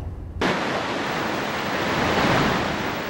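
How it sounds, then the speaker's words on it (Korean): Ocean waves crash on a rocky shoreline path at Gangneung on Korea's east coast, a loud, continuous roar of surf that surges in abruptly after a brief quiet moment and rolls on steadily, close by, with no talk. "넘실대는 파도를 감싸안고 바위 병풍을 두른 길"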